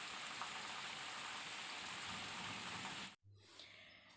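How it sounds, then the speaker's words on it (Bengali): Heavy rain pours down outdoors in a dense, even hiss of drops lasting about three seconds, then cuts off abruptly into a quieter indoor background. "দেখুন, ঝমঝমিয়ে বৃষ্টি এসে গেছে।"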